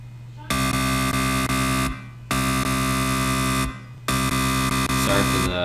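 A hard electro synth built in FL Studio, with no kick drum, blares out three long, loud buzzing chords, each held about a second and a half and separated by short silent gaps.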